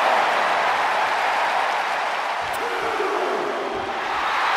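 A virtual arena crowd in the WWE 2K23 video game roars in a steady, dense wall of cheering throughout a last man standing match, with no pauses.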